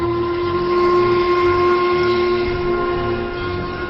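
A Maria Fumaça steam train blows a long, steady, loud whistle with a hissing edge on an old railway, dating from 1884, through the mountains of São Lourenço, Minas Gerais.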